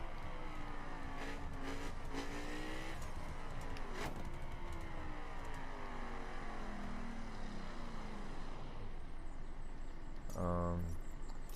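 A car engine in The Crew winds through gear changes, its pitch sliding down in falling sweeps as it downshifts, followed near the end by a brief blip of revs, loud and up close.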